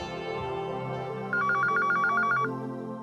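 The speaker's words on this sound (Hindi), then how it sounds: "फोन।" An electronic phone ring trills in a short burst of rapid repeated pulses, fairly loud over a low background hum.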